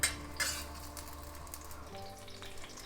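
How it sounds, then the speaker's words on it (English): Chopped scallion whites and ginger saute in hot oil in a pan for red braised pork belly, a steady soft sizzle with a light clink of a utensil near the start. "Next, add the white part of scallion and ginger. Saute until golden brown."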